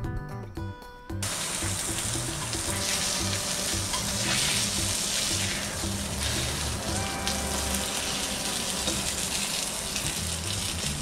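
Food pan-frying on its second side, with a dense steady sizzle that stays loud and close throughout after a brief quieter start.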